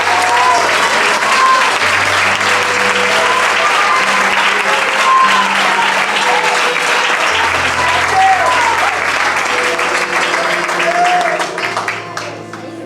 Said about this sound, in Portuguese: aplaude e glorifique o Seu nome